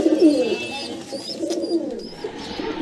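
A fantail pigeon coos close by in soft, repeated throaty phrases with brief pauses between them.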